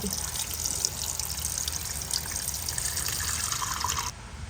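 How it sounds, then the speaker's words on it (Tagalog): Steady splashing flow of water pouring into a cooking pot, continuous and close, cutting off abruptly near the end. "Lagyan natin ng tubig"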